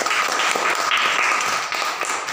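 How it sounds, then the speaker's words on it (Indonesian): Children in a classroom clap together in a dense, fast patter, close and steady for about two seconds before easing off slightly. "Tepuk tangan dulu."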